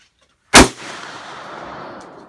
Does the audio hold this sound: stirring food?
no